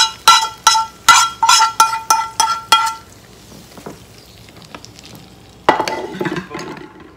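A spoon stirs tempered mustard seeds into okra kichadi in a pot, giving about eight quick, bright metallic clinks in a steady rhythm, then quieter scraping and a final burst of stirring.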